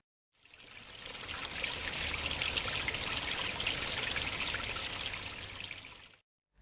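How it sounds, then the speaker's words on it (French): Hydrochloric acid (3N HCl) is poured from a container into a reagent flask, a continuous trickling liquid pour lasting several seconds, close and moderately loud, then stopping abruptly. "Nous en avons versé un peu dans le flacon de réactif colore 1."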